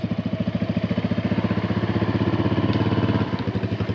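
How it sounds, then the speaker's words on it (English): A child-sized Polaris Sportsman 90 ATV, a small farm quad with kick and electric start, idles with a steady, close, fast-pulsing putter for the full four seconds and no talk over it. "This handy little machine is child sized and it's quite handy for running around the farm with."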